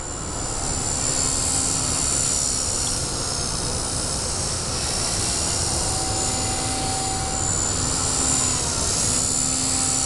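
A small V120D02S-Pro RC helicopter, on its stock battery, flying 3D rolls outdoors gives a steady, loud high-pitched rotor and motor whine with a constant hiss throughout, its tone shifting slightly as the craft rolls.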